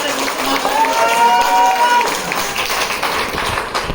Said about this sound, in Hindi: जोरदार तालियां, शानदार तालियां